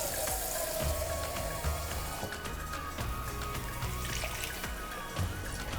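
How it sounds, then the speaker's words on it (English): Water from a can trickles and pours into a cast iron pan holding simmering tomatoes and their juices, a soft continuous splashing under faint background sizzle and clinks. "And I'm going to add about 1/4 of a can of water with that."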